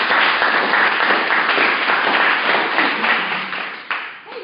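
A small group on a livestream claps together indoors, a brisk, fairly close burst of hand claps that tapers off toward the end.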